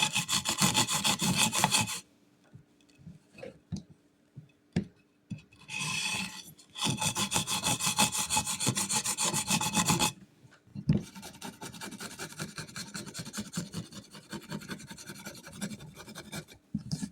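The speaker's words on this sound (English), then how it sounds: "we'll do a quick level sanding" Bursts of rhythmic, raspy level-sanding strokes on a hard guitar body, separated by short quiet pauses and scattered taps, then a longer stretch of steady rubbing.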